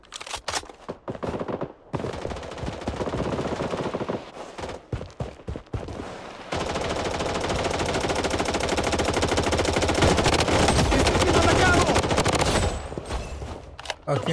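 An M4 rifle fires in the Blood Strike shooter game, first in short bursts of rapid shots with brief pauses, then a long, loud continuous stream of automatic fire close up.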